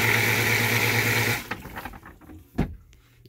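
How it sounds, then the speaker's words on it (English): A cassette toilet in a Trailmanor camper flushes with a loud, steady rush of water and a humming pump for about a second and a half, then stops abruptly, leaving a few faint clicks and knocks. "to flush the toilet,"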